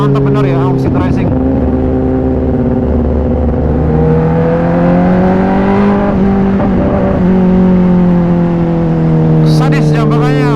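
A 2021 Kawasaki ZX-10R sport motorcycle fitted with an Austin Racing exhaust, loud and close, with a deep steady engine drone that rises in pitch and settles again, and a voice talking over it.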